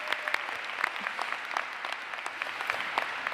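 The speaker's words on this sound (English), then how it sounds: "We applaud you." Applause for the College of St. Benedict class of 2018 graduates at their commencement ceremony, a steady patter of many hands clapping at moderate distance, with faint crowd murmur beneath.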